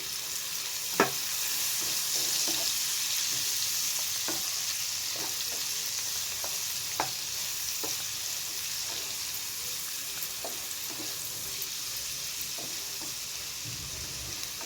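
Onions and green chillies fry in a pan with a steady, close sizzle, punctuated by occasional sharp stirring scrapes and clinks throughout.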